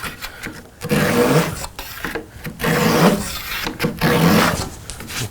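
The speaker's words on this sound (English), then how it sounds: "we'll just kind of cut that flush" A handsaw cuts glued wooden dowels flush with a surface during arcade cabinet prep, giving repeated rasping back-and-forth strokes in short bursts with brief pauses, close and fairly loud.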